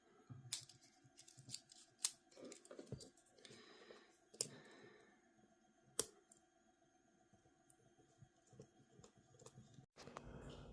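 Small metal clicks and taps come from a deadbolt lock cylinder being reassembled by hand as the detent spring and cap go back in. The sounds are sparse and close, with quiet gaps between them and a rustle at the end.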